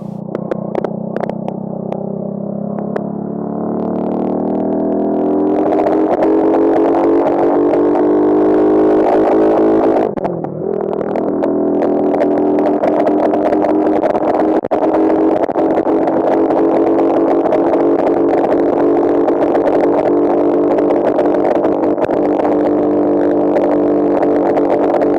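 A supercharged postie motorcycle is ridden at about 80, its engine climbing in pitch through a roundabout and then holding a loud, steady buzzing drone with wind rush, a brief dip midway, and no talk.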